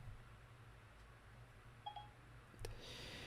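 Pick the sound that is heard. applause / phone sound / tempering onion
phone sound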